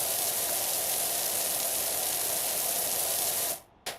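A pressure washer sprays in the game Powerwash Simulator, giving a loud, steady, broadband hiss of water that runs unbroken for several seconds before cutting off sharply and briefly restarting, with no talking over it.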